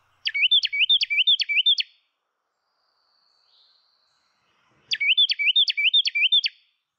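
A Carolina wren's loud, clear song: a rapid series of repeated ringing phrases, then silence, then the same rolling phrase series again, close and alone.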